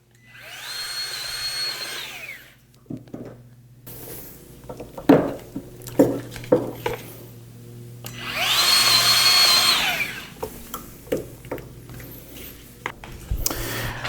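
A hand grease gun forcing grease into a zerk on the U-joint of a Kubota BX mower deck, two sustained hissing, squealing bursts separated by a stretch of clicks and knocks, fairly close and clear.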